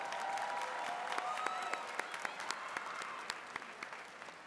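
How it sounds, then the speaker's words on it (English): An audience at a high school graduation ceremony claps steadily in a distant, reverberant hall, with sharper individual claps standing out near the end. "Please give them a round of applause."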